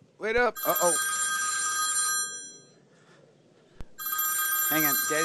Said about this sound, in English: Hang on, Daddy's gotta go get the phone.